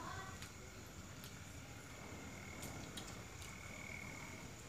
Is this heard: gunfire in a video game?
no